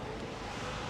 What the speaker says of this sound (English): Absolutely a little windy today.